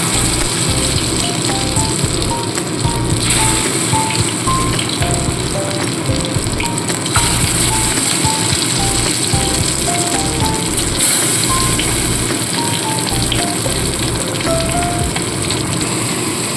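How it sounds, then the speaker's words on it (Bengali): Steady crackling sizzle of Bombay duck (lote fish) frying in oil, continuous and fairly loud throughout with no talking. "আবারও বেশ কিছু লোটে মাছ এইভাবে ভেজে নেব।"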